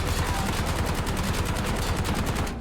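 Rapid automatic gunfire from a weapon in Call of Duty Warzone, a loud, close burst of evenly spaced shots that runs continuously for about two and a half seconds before cutting off.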